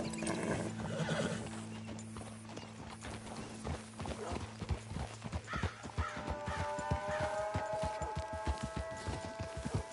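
Horse in Red Dead Redemption 2 clip-clopping in a quickening rhythm of hooves with a whinny near the start, close and loud, while music swells in later.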